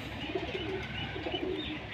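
Blue male pigeon cooing close by, soft repeated low throaty coos over a steady background hum.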